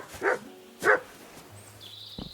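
Mutt the dog in the game Kingdom Come: Deliverance gives two sharp barks about half a second apart, close and clear, followed by quieter whistling tones and a soft knock, with no voices.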